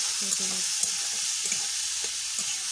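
Carrot, capsicum and peas frying in a pan give a close, constant hiss of sizzling, with a few faint stirring knocks underneath.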